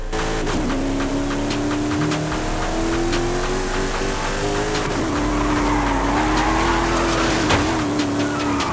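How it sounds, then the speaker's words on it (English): Engine of a Mercedes E55 AMG wagon in a racing video game, revving loudly and steadily with rising pitch, tire squeal and skidding throughout. "Let's hear this engine real quick."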